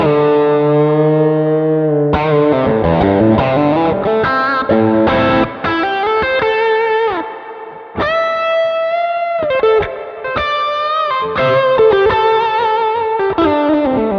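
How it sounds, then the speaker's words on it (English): Electric guitar runs through two stacked overdrive pedals in a Neural DSP Archetype plugin, giving sustained distorted chords and melodic lines with short gaps between phrases, loud and close, with no voices. "so that's the two overdrive pedals together"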